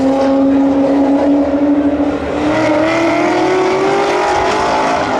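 A Corvette and an Audi at a winter spectator drag event roar hard toward the line, their engines howling and climbing in pitch together, loud and close, with a brief dip midway before the drone presses on.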